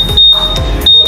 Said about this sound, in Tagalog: Yan. Yung alarm niya.